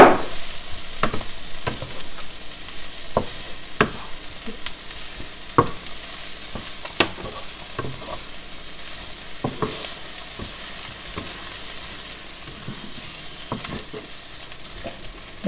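Food frying in a pan with soy sauce about to go in, a constant sizzle broken by repeated scraping and clacking stirs at an uneven pace, close by and with no talking.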